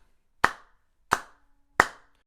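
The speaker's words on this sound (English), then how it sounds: "Let's clap together these 4 quarter notes." Sharp hand claps ring out evenly spaced on the beat, three crisp isolated claps with short decays and silence between, close and loud.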